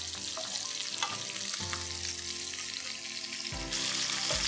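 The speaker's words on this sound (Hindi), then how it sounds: "1 कटोरी डालेंगे छोटे प्याज, जिसे हम सांबर अनियंस भी कहते हैं और शैलेट्स भी कहते हैं।" Small shallots (sambar onions) frying and being stirred in a pan for South Indian chicken chettinad, a steady close sizzle broken by occasional spoon scrapes, with no talking.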